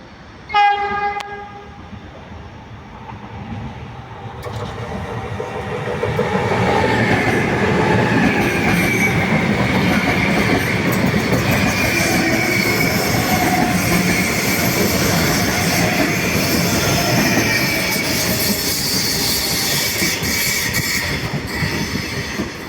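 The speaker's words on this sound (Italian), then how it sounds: "Treno regionale delle ore 17:21 per Venezia Santa Lucia è in arrivo al binario 2." A regional train for Venezia Santa Lucia pulls into platform 2 at Padova station. A brief horn blast comes first, then the rumble of the cars and the squeal of the wheels build and stay loud and close.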